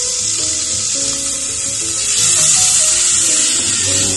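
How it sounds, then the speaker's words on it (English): Onions sizzle loudly in hot oil in a pan set on high heat, a steady bright crackling hiss that runs throughout, with faint tonal background sounds underneath. "I'm going to put in my onions first so them sizzle"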